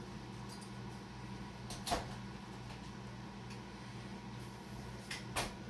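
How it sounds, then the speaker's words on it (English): Doors open and close somewhere down a hallway, heard as two soft, fairly distant knocks and clunks a few seconds apart over a quiet room hum. "Keep hearing doors open and close."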